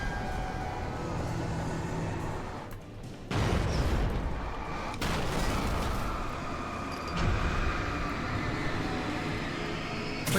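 An old train rattles across a rickety bridge in Alan Wake, a loud, continuous rumbling clatter with heavy low-end roar and a few abrupt shifts in intensity as it passes.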